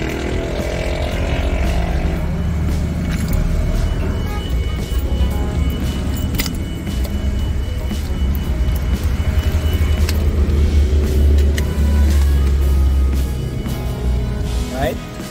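Ford Escape engine running steadily at idle with a low, continuous drone, while people talk over it throughout.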